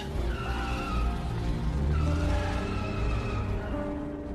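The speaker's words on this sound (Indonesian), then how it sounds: "Angela kemudian masuk dan mengendarai salah satu mobil di situ" A car skids in the 2007 film P2 inside a multi-level parking garage, a loud continuous tire screech with steady engine roar lasting several seconds, close and dense throughout with no speech.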